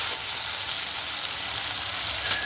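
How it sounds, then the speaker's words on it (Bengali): Potatoes fry with spices and a splash of water in a pan, making a continuous hissing sizzle, close and even, with a faint crackle near the end and no talking. "সামান্য একটু জল দিয়ে এবার মশলার সাথে আলু একদম সুন্দর করে কষিয়ে নেব"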